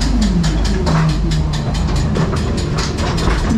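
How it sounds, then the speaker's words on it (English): Steady rumbling of a ghost train ride car rolling along rails with rhythmic clicking and clattering, continuous and fairly loud, no voices. "The spooky ghost train."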